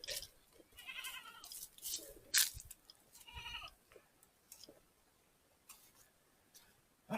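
A goat bleats several times in short wavering calls at moderate distance near a hillside Moravian church in Aberdeen, St Elizabeth, with faint ticks and quiet background between calls.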